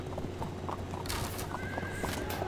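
Light horse archers in the strategy game Field of Glory II gallop with a quick clip-clop of hooves and a loud neigh, all game sound effects without any talking.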